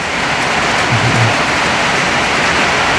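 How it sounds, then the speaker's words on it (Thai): Steady rain falls outdoors as a constant, even hiss of broad wash that neither builds nor fades, moderately loud, with no voices. "ฝนตก"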